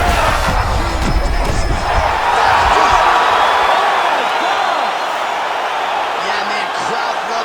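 A crowd in EA Sports UFC 5 roars and cheers at a fight's finish, a loud continuous swell with sharp thuds early on, while commentators talk over it.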